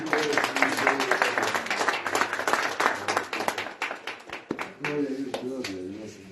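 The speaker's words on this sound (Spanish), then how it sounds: "Den más palmas al Señor." A church congregation at a spiritual retreat claps rhythmically in praise, many hands beating a fast steady pulse while voices sing or call out over it; the clapping thins briefly, then resumes.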